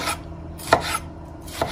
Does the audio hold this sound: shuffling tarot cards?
no